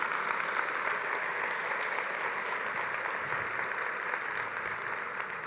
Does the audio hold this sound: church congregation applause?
yes